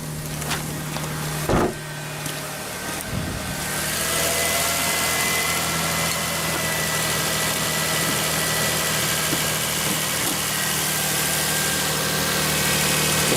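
Toyota Sienna engine idling, a steady continuous low rumble with constant hum, a couple of brief knocks near the start, then unchanging throughout.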